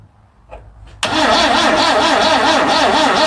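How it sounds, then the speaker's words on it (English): A Vauxhall Magnum engine, standing unused for 37 years, cranks after a short quiet lead-in: the starter kicks in abruptly and churns loudly with a steady rhythmic wobble until the end. "One round the engine out there. See if that spins over any quicker."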